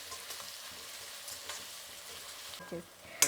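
Thinly sliced onions fry in a pan with a soft, steady sizzle, broken by a few stirring scrapes and a sharp clink near the end.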